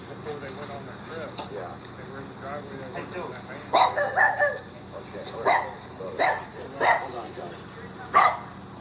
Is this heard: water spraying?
no